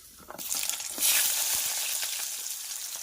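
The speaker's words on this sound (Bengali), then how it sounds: "যে চিনিটা দিয়েছিলাম চিনিটা দেখুন কি সুন্দর লাল লাল হয়ে ভেসে উঠেছে তো এবারে দিয়ে দেব পেঁয়াজ কুচি" Chopped onion drops into hot oil with caramelized sugar in a village kitchen, setting off a sudden sizzling hiss that swells and then holds steady, with a few faint stirring scrapes.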